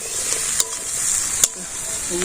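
A paste of onion, garlic, ginger and spices sizzles in a pan, a steady hiss broken by a couple of sharp scraping stirs, close and fairly loud.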